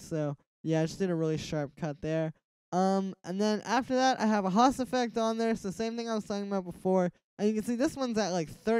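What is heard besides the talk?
No distinct noise like a dog, phone or traffic.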